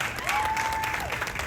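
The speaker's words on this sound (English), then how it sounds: "I would like you guys to just give her a round of applause" A crowd at a Subaru Boxerfest event claps in steady applause, with a whistle rising above the clapping.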